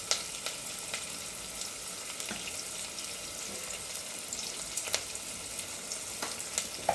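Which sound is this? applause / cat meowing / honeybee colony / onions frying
onions frying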